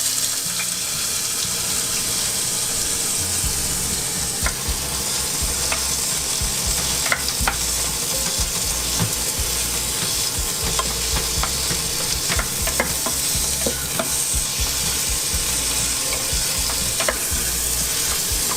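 A mix of tomato, onion and garlic hits hot vegetable oil and sizzles loudly and continuously, with scattered clinks and scraping from stirring and no one speaking.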